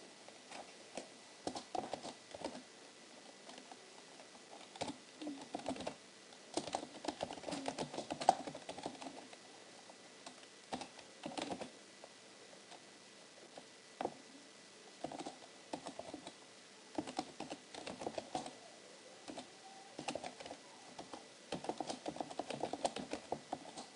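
Quiet, irregular tapping on a computer keyboard while JavaScript code is edited, keystrokes coming in short flurries and pauses throughout, soft and close with no voices.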